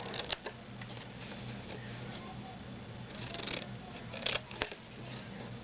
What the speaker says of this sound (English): you're going to take your scissors and you're going to cut each of these triangles out